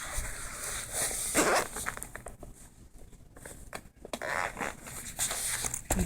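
The zipper of a planner tote bag is worked open in short, close, fiddly pulls: a burst early on, a quieter pause, then longer rasping zipping with light rustling.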